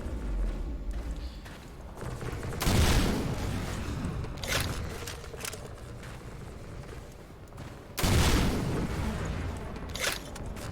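Strider death in Half-Life 2: heavy, rumbling booms and crashing debris rise over a dense, noisy battle bed, with two big surges about five seconds apart and no voices.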